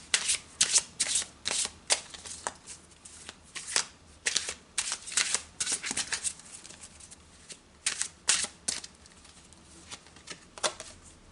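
Tarot cards being shuffled by hand during a reading: repeated quick riffling bursts in an uneven rhythm, close and fairly quiet, with no talking.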